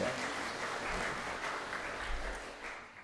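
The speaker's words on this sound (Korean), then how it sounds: "큰 박수로 하나님께 영광드립니다." Congregation at a Sunday church service breaks into sustained applause, a dense even clatter of many hands lasting a few seconds before tapering off.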